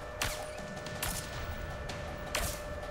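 Enemy gunfire in the A Way Out video game cracks out in three sharp bursts spaced about a second apart, loud and close over a low ambient hum.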